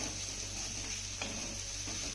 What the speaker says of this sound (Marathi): तर एकदा ना याला तळापासून आपण चांगलं हलवून घेऊया.